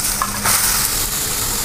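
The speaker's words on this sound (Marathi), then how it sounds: "आता आपण छान या बीटला परतवून घ्यायचं आहे" Half a kilo of grated beetroot sautéing in a pan for beetroot halwa, a close, even sizzle with a brief scrape of stirring near the start, alone without voices.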